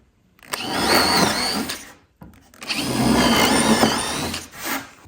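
Power drill driving screws to join oak boards of a brace-making jig for green oak framing, two loud bursts of whirring drive separated by a short pause, close by and alone.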